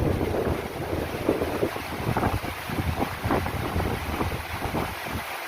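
Strong wind roars and buffets steadily against the microphone, with gusty rumbling bursts throughout and a constant high whine in the background.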